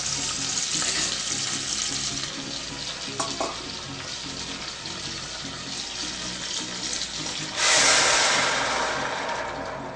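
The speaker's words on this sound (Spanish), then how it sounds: "lo que vamos a agregar es nuestro caldo o agua hirviendo" Broth or boiling water poured into a cooking pot, a steady watery rush and sizzle throughout, swelling louder and brighter near the end, with no talk.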